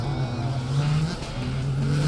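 Rallycross cars launching at the start of the all-wheel drive final, engines droning and revving upward together, loud and continuous with a busy, layered pack sound.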